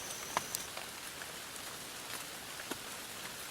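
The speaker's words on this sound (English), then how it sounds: "the rain beat me to before I could finish building my shelter" Faint, steady patter of rain falling on a tarp shelter in the woods, with a few slightly louder individual drops tapping through the soft continuous wash.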